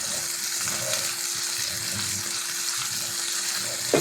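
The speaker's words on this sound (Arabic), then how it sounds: "وهنا السمك بتاعنا العصفر بيتحمر" Asfour fish frying in hot oil, a steady loud sizzle and crackle running throughout with a small knock at the very end.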